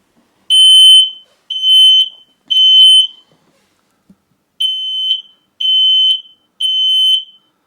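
A battery-powered single station smoke alarm sounds its test, six loud shrill beeps in two groups of three separated by a pause, close and alone.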